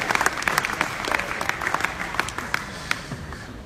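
Awards ceremony audience clapping, a dense, steady burst of applause from a large crowd lasting a few seconds, moderately loud with no distinct voices over it.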